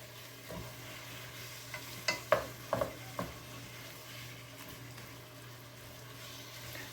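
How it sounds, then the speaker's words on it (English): Ground hamburger meat browning in a pan, a faint steady sizzle under a low hum, broken by a few clanks and scrapes of stirring near the middle. "this hamburger is going to take just a little bit here to finish browning"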